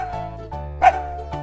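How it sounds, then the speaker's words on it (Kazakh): A dog giving a single short bark or yip over a steady musical backing, brief and clear in a children's colours-and-animals game. "Ит."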